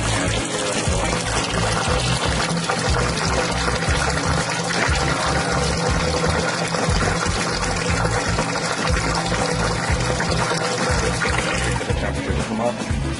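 Water circulates through a tube inside a heated liquid tank in a home brewing setup, a steady loud gurgling, pouring flow that runs without a break, close and continuous.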